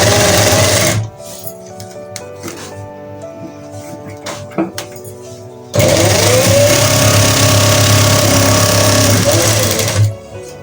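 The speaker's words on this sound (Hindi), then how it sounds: "इसकी हमने देखिए ये इस तरीके से सिलाई लगा ली" An electric sewing machine stitches the side seam of a pair of trousers in two loud, continuous whirring bursts, separated by a quieter pause with faint handling clicks.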